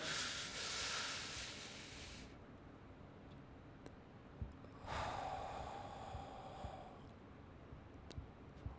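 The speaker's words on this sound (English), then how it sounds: "On a count of 4, you breathe in. On a count of 4, you hold it. On a count of 4, you breathe out." Slow, deliberate breathing exercise: a long airy inhale, a quiet held pause, then a slow audible exhale, all close to the microphone with faint clicks in the background.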